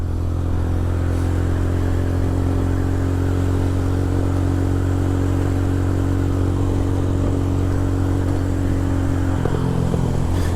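Motorcycle engine running steadily at speed through a gear change, with a low, constant drone and a brief shift in pitch near the end; no talking.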